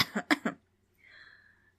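Three sharp coughs in quick succession, close and fairly loud, followed by a short wheezy exhale after a pause.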